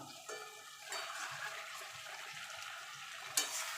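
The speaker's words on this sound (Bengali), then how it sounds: "এবার আমি মাছের কাটাগুলো দিয়ে দেবো" Bhetki fish bones dropped into a pan of frying potatoes and spice masala, a soft wet sizzle and stirring hiss that swells after a brief clatter, with a sharper splash near the end.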